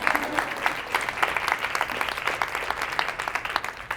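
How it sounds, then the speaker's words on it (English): Audience applause during a talk by a law firm owner, a steady patter of many hands clapping at moderate volume, lively and continuous for about four seconds. "Give me a round of applause."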